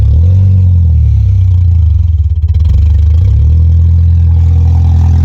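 A car engine with no exhaust system running loud and close, a raw throaty drone that dips briefly into a rapid clattering pulse before settling back to a steady, heavy idle.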